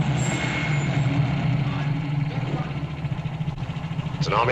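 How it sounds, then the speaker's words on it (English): An army truck engine idles in a 1940s film scene, a steady low rumble throughout with a brief hiss near the end. "It's an army truck."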